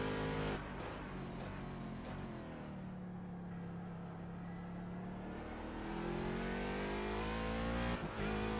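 Race car engine in a sim racing game holds a steady, loud drone through most of the stretch, with pitch shifts as the car moves through a corner and a brief dip near the end.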